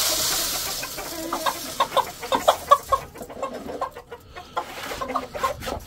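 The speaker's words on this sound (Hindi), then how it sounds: "चार पांच मुर्गियां चली गई, उन्होंने सारा कुछ अच्छा अच्छा खा लेना, तुम लोग भी जाओ अंदर।" A group of backyard hens cluck and squawk in short, overlapping bursts while being driven into a cage, close and fairly loud, the calls thinning briefly before rising again.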